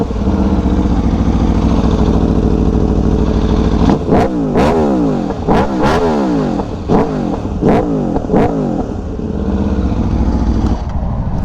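An Aprilia RSV4 Factory sport motorcycle with a loud stock exhaust, heard up close at a steady growl before several sharp throttle blips rise and fall in quick succession, with no talking over it.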